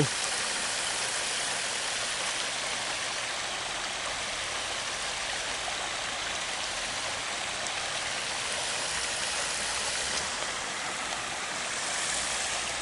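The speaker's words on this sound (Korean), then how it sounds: "미니 폭포입니다" A small winter waterfall of muddy water in a hanok village, a steady close splashing rush of falling water that stays even throughout.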